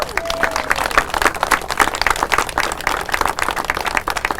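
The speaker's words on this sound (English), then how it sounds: "Would you raise your hand right now so we can give you a round of applause?" An audience at a city news conference in Albuquerque breaks into a round of applause, a busy, fairly close clatter of many hands with a murmur of voices underneath.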